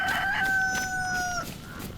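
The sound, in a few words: chicken clucking in the video game DayZ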